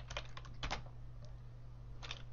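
Keys clatter on a computer keyboard in a few quick bursts of typing, close and fairly quiet over a steady low electrical hum.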